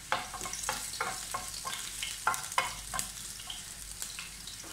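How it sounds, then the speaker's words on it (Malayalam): Four or five finely chopped garlic cloves frying in hot oil for white sauce pasta, a steady close sizzle broken by scraping stirring strokes, with no talking. "ചൂടായിട്ടുള്ള ഓയിലിലേക്ക് നമുക്ക് ആദ്യം വെളുത്തുള്ളി ഇട്ട് കൊടുക്കാം"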